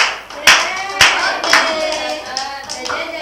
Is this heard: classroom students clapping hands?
yes